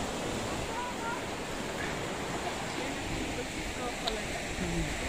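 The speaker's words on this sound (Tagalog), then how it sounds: "Lakas ng alon." Steady roar of strong surf at Riomaggiore, Cinque Terre, Italy, with waves crashing continuously, loud and close, with wind noise over the microphone.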